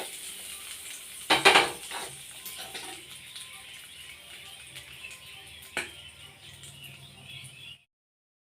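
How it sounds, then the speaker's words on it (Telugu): Hot tempering poured into coconut chutney and stirred, a clattering spoon-on-vessel burst followed by faint sizzling and scraping, with a softer clink later before silence. "ఇప్పుడు మనం ముందుగా రెడీ చేసి పెట్టుకున్న చట్నీలో పోపును పోసుకుందాం"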